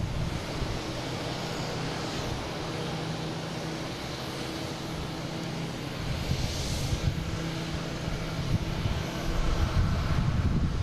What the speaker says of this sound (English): We have a JetBlue and A320 heading to Fort Lauderdale, flight 369.